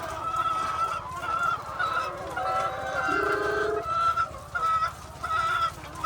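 Poultry clucking and squawking steadily, several birds close by, a busy flock with a brief goose-like honk partway through.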